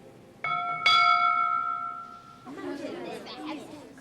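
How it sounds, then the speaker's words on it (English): Ely Cathedral's bell rung for evensong sounds two clear, ringing strikes in quick succession, the second louder and left to hum and decay for over a second before people's chatter and room noise take over. "When Derek Butler rings the bell for evensong, he's carrying on a 900-year-old tradition."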